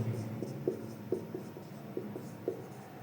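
A marker or chalk taps and scratches on a board during a reasoning lesson, making short strokes at a loose, irregular rhythm. The sound is faint and near, with no voice over it.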